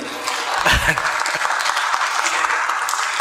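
Forum audience applauding the chairperson at the close of an international session in Tanzania; steady moderate clapping throughout, with a brief louder burst near the start.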